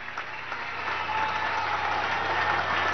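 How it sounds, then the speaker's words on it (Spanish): Sustained applause from a crowd, steady and fairly loud throughout, with no talking over it. "Un aplauso."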